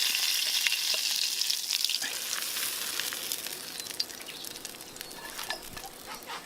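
Venison steak sizzling and crackling over an outdoor campfire during a wilderness walk, a continuous close fry with small pops throughout and no talk.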